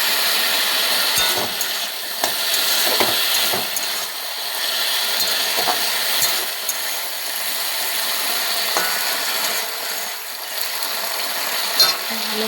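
Chopped tomato, potato and green chili are sautéed in a pan, with a steady close sizzle broken by repeated scraping stirs of a spoon.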